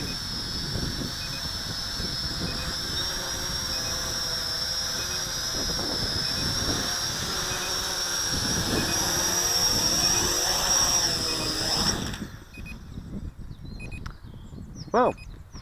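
An SJRC Z5 small drone hovers in to land, its steady high-pitched rotor whine continuous and fairly loud, then cutting off abruptly near the end, followed by quiet handling noises.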